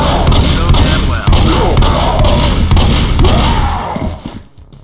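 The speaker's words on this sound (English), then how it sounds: "I hear gunfire!" Rapid bursts of video game gunfire, loud sharp shots repeating every half second or so over a noisy background, stopping near the end.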